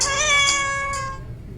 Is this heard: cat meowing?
yes